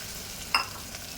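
Carrot dropped into hot oil with green chili and garlic, giving a soft continuous sizzle and one brief louder spatter midway, without talk.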